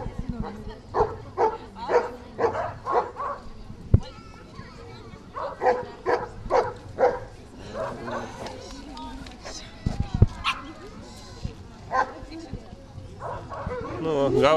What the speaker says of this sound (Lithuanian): Airių seteris tai yra tikrai medžioklinis šuo.